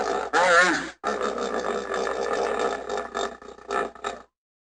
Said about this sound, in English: This is the sound a hippo makes.